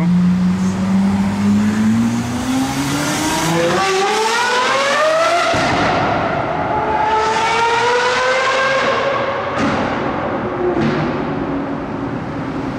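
A modified Lamborghini Aventador SVJ with a Gintani exhaust screams loudly past in Monaco, its high-pitched note climbing steeply through the gears with sharp shift breaks, then holding a rising wail as it pulls away.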